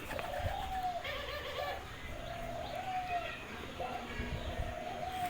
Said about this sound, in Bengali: এই ঘুঘু পাখি